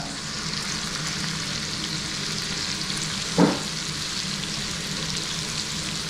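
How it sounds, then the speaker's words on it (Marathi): Onion frying in melted butter over a medium flame for restaurant-style pav bhaji, giving a steady, close, even sizzle throughout with one brief louder crackle partway through. "तर बटर मस्त मेल्ट झाला आहे. आणि आता त्यात टाकतोय कांदा."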